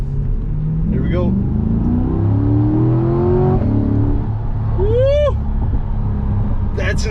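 A 2021 Chevy C8 Corvette pulls hard with a deep engine drone and rising revs, exhaust opening up, while people talk and exclaim over it inside the cabin.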